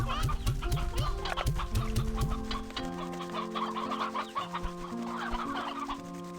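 Chickens in the video game Slime Rancher 2 cluck in a loud, busy flock, rapid overlapping clucks and squawks over a steady game music drone.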